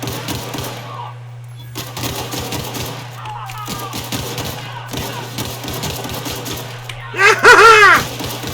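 Rapid gunfire from the video game The Outer Worlds crackles in bursts across the clip, with a louder, busier spell of shots and sharp effects near the end, steady background game hum throughout.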